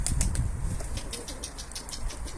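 Rapid wing flapping of a pigeon taking off nearby, a quick flurry of soft beats over faint outdoor background noise.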